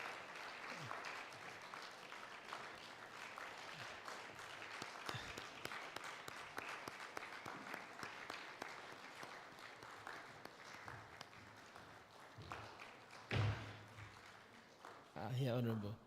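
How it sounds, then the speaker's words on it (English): Crowd applause fills a FinTech exhibition hall, a dense continuous patter of many hands clapping at moderate distance, with people talking over it throughout. "let's keep clapping for Honorable"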